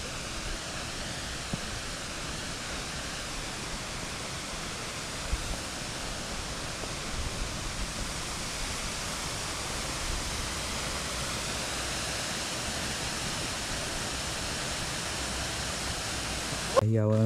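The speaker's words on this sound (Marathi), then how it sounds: "बघा राऊतवाडी धबधबा." Rautwadi waterfall near Kolhapur roars as a steady, dense wash of falling water that fills the whole stretch evenly and stays loud throughout, with no pauses or changes in level.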